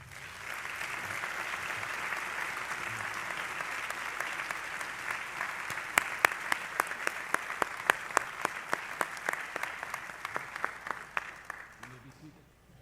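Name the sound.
audience applause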